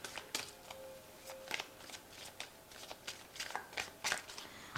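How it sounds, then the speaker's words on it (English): A Ramses Tarot card deck is shuffled close up, giving quiet, repeated riffling snaps and soft card slaps in an irregular rhythm with no talk. "I have shuffled this deck."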